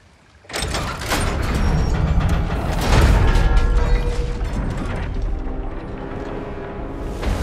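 A heavy crank mechanism turns in the video game God of War Ragnarok, giving a loud grinding, ratcheting rumble of gears and chains with a deep thud partway through, sustained for several seconds without speech.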